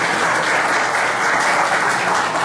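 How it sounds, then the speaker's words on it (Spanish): Loud, sustained applause from a crowd at a press conference held by a constitutional court, a dense, even roar of clapping close by with no pauses. "a quien le damos un fuerte aplauso"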